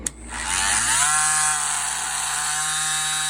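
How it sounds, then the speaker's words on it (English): A Dremel rotary tool burnishing the edges of a leather knife sheath, spinning up to a steady high whine close by and holding it for about three seconds. "show y'all the Dremel burnishing for a little bit"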